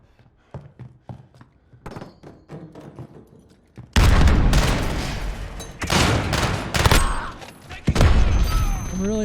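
Video game gunfire and grenade blasts in Modern Warfare 2019: quieter scattered shots and thumps at first, then a loud, dense stretch of rapid gunfire and explosions, with a voice talking over the action.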